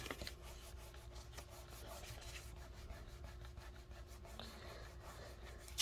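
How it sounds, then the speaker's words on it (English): Dried glue rubbed off fabric during pocket sewing work, a quiet, steady scratchy rubbing that continues throughout, close by and faint. "I like how that glue just rubs away."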